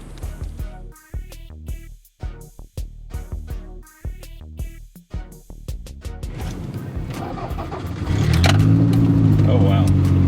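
A Toyota MR2 engine mounted behind the cabin cranks over and fires, then settles into a steady, throaty idle that grows louder and rougher near the end, heard from inside the car with some talking early on.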